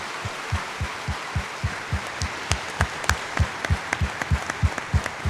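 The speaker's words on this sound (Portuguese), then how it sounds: "Então lasca uma salva de palmas para Jesus" Congregation clapping during a homily at Mass, a rhythmic, evenly spaced beat of hands in unison, soft and somewhat distant, with a few sharper individual claps mixed in.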